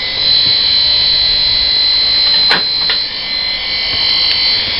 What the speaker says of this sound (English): Clippers, before you attach the blade, start the motor.